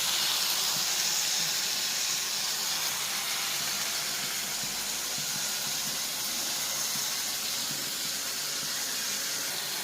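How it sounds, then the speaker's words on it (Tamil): Anchovy dry fish thokku simmering in a pan, a steady broad hiss of steam and sizzle running evenly and close throughout with no talk. "நெத்திலி கருவாடு தொக்கு வேகிட்டு இருக்கு."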